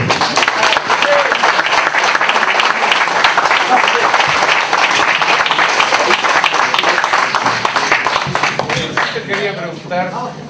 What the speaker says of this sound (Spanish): Un aplauso para el compañero José.